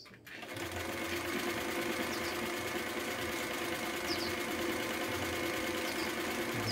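A Singer 319w sewing machine stitching a cam-driven pattern runs at a steady, rapid mechanical chatter after a brief start, a continuous whirring hum with rhythmic clicking, close and alone.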